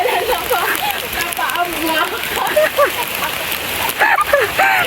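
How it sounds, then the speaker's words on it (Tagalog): Rain falls at a night market in Jiufen, Taiwan, a steady patter with splashing beneath close, chattering voices and bits of nearby talk. "It's rain."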